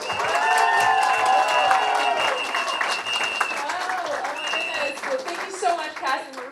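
A crowd at a political office opening applauds and cheers loudly, with dense clapping, whoops and shouts sustained throughout before tapering slightly near the end.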